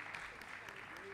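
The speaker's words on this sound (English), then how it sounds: "Applause" Faint applause from conference attendees welcoming a speaker, a brief, even patter of clapping with voices faintly underneath.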